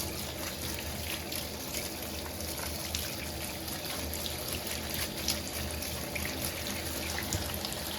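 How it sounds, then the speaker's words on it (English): Hot water runs steadily from a faucet into a bucket of bulk LEGO pieces with dish soap, a constant broadband splashing rush that holds at an even level throughout with no talking. "Stick it underneath the faucet, turn the faucet on to hot"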